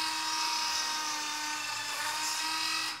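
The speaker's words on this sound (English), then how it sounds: "when you're drilling onto a ridge, it's helpful just to do a pilot hole" A small drill bores a pilot hole into a spine at a ridge, a steady high-pitched whine held loud and close for about three seconds before cutting off, with no talking.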